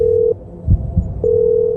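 A steady telephone dial tone sounds as a call is placed, cut off briefly by a couple of low thuds before the continuous tone returns, clear and alone.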